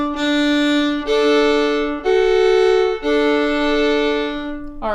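A bowed violin plays slow sustained notes of The Star-Spangled Banner in double stops, two pitches sounding together, moving through four held steps with no talking.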